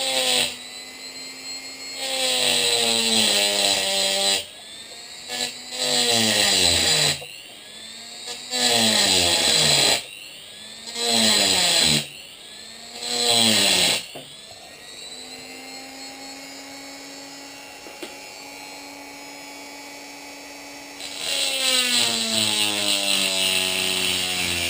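A high-pitched electric grinding tool cuts a round hole in hammered glass, whining loudly in repeated bursts of a couple of seconds, then running at a lower steady pitch before a final loud burst.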